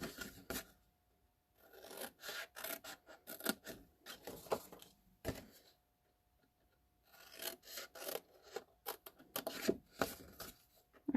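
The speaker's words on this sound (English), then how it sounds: "We're going to cut out all these little squares." Scissors snip through cardstock to cut out small squares, a quiet, close series of quick crisp cuts coming in bursts with short pauses between them.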